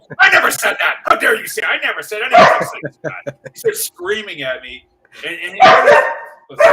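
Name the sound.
dog barking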